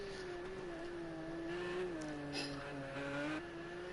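A touring race car at Oulton Park Island struggles to put its power down as it comes through Druids, its engine droning steady and fairly distant, rising and dipping a little with small surges, and nobody speaking.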